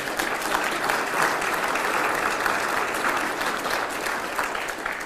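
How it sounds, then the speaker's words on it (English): Audience applause at a city's State of the City address in Youngstown, a dense, steady roar of many hands clapping that holds at full strength throughout. "Give them a big round of applause"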